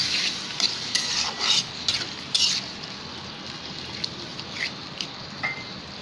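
Spice paste with chopped tomatoes, salt and a splash of water sautés for a fish curry, a steady wet sizzle broken by the scrape and clack of a spoon stirring against the pan.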